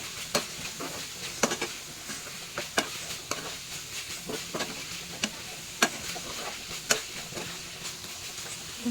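Chicken pieces and tomato frying in a pan while being stirred, a steady sizzle broken by repeated scraping clicks of the spoon, close and fairly quiet with no talking.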